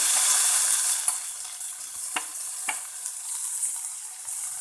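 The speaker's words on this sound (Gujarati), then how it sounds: "હવે તેમાં આદું અને લીમડો નાખી થોડી જ વાર સાંતળી લઈએ" Ginger and curry leaves sauté briefly in hot oil after peanuts were fried, a bright hiss of sizzling with a couple of soft stirring scrapes, close and steady, no speech.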